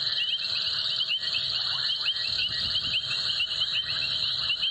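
Several small frogs call together at night on a safari drive, a dense, steady chorus of high trilling notes that carries on without a break.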